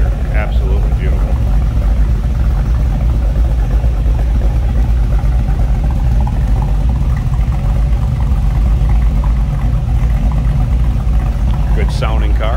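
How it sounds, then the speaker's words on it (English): A 1934 Ford Model 40 five-window coupe runs steadily close by, its low engine drone continuous throughout, with a faint voice briefly audible near the end. "Good sounding car."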